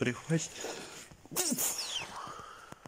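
A single short sneeze heard close by during a DIY car sill replacement in a garage, with someone talking just before it.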